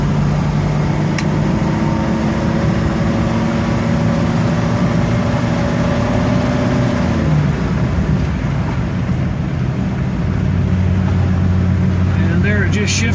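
A 1949 DeSoto convertible driving along with its engine droning steadily, the pitch dropping partway through as the automatic transmission shifts from first to second, with people talking over it.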